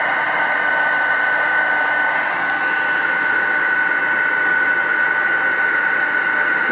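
A heat tool blasts continuously while melting embossing paste, a loud, even whooshing roar with a steady whining tone running through it.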